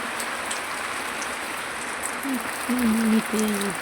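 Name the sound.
heavy unseasonal summer rain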